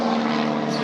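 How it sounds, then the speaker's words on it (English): A helicopter passes overhead with a steady, droning rotor and engine hum, holding loud and even throughout the short stretch with no voices. "we listen to the helicopter for a while as it flies over"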